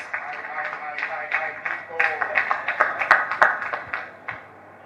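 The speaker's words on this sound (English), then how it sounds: "A big round of applause for NICO group of companies." Scattered audience applause at a mayoral meet-and-greet event in Blantyre, Malawi, with uneven claps rising and fading over a murmur of voices before dying out.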